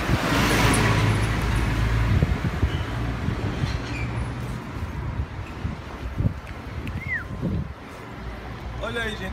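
A car driven solo by a learner driver passes by on a road, a close, loud engine and tire rush that swells early and then fades, with traffic noise and wind around it.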